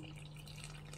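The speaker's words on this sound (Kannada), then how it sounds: "ಒಂದು ಸ್ವಲ್ಪ ನೀರು ಹಾಕೊಂಡೆ ಕಲಿಸ್ಕೊಳ್ಳಿ ಫ್ರೆಂಡ್ಸ್" A little water runs into a dry flour mix seasoned with turmeric powder, a short steady wet trickle over a low hum, with no talk.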